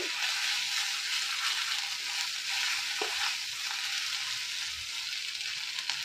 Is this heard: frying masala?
yes